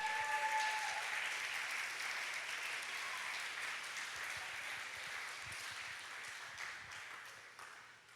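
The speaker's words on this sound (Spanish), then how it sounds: "¿Cuánto le da un aplauso al Señor?" A church congregation applauds the Lord after a Spanish sermon, sustained clapping from a crowd that gradually fades over several seconds.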